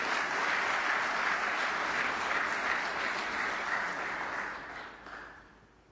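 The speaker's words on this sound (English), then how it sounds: "Tom Ford has just potted blue and pink, hence the applause from the other table" Sustained applause rises from a neighbouring table at a snooker tournament, a dense steady patter of many hands clapping that holds strong before fading away at the end, with no talk over it.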